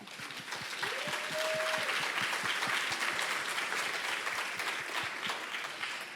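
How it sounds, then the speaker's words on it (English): Audience at a summit plenary keynote applauding, sustained even clapping for several seconds, moderately distant. "I just want to offer a sincere round of applause to this team's leadership at the helm"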